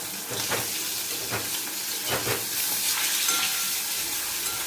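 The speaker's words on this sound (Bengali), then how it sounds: "কড়াইয়ে তেল দিয়ে মাছগুলো খুব সামান্য ভেজে নিলাম" Hilsa fish pieces fry in mustard oil in a wok, giving a close, steady, bright sizzling hiss with small popping spurts throughout.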